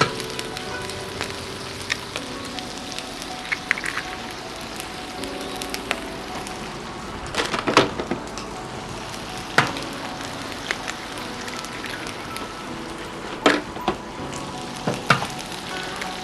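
An egg fries in a pool of oil on a Blackstone griddle during a hibachi-style stir fry, with a continuous sizzle broken by sharp scraping and tapping clicks of a spatula on the flat-top.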